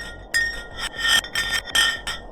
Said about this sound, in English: they decided to drop some ice to the bottom of the hole to see what would happen next